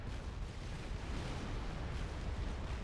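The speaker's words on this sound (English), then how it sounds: "There's an explosion." Explosions in the real-time strategy game Supreme Commander, a dense low rumbling blast texture with crackling bursts, sustained and fairly faint throughout, no voices.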